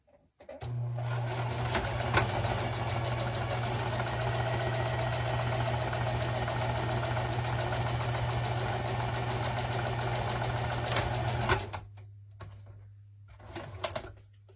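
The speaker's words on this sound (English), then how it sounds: "And you are just going to sew that up." A sewing machine stitches a seam in felt for a snowman hat, running as one steady, close, continuous whirring hum for about eleven seconds before stopping, with a few small clicks afterward and no talking.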